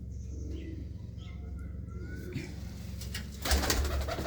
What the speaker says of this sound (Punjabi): ਗਿਣਤੀ ਦੇ ਕਬੂਤਰ ਹਰ ਖੁੱਡੇ 'ਚ ਛੱਡੇ ਹੋਏ ਆ ਜ਼ਿਆਦਾ ਕਬੂਤਰ ਨਹੀਂ ਛੱਡੇ ਹੋਏ